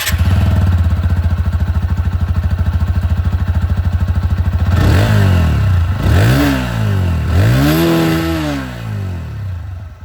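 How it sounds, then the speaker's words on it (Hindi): A TVS Apache RTR 160 2V motorcycle exhaust settles into a steady, loud idle that pulses rapidly for a few seconds, followed by three sharp throttle blips rising and falling close to the microphone. "अब मैं आप लोगों को यहाँ पर जो अपाचे 160 2V की जो एग्जॉस्ट साउंड है वो भी सुना देता हूँ"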